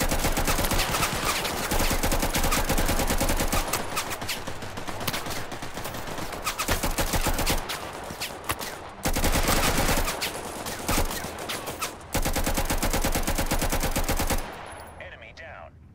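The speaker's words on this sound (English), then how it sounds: "Return fire." Dense, continuous automatic gunfire and bursts of shots rage through a Total Conflict Resistance video game battle over a factory, loud and nearly unbroken, with only a few brief drops before fading near the end.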